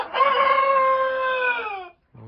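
A rooster crows loudly and close by in one long drawn-out call, followed by the brief start of another crow.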